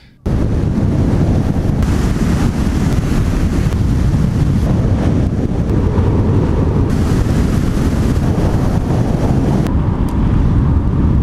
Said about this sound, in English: it was stormy and windy, so that did not help